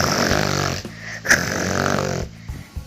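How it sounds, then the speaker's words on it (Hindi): Loud, drawn-out snoring serves as a sound effect in a children's story, heard as rough, rumbling breaths that rise and fall close up with a brief snort partway through. No one speaks. "इस बंद इमारत में कौन इतनी जोर जोर से खर्राटे ले रहा है?"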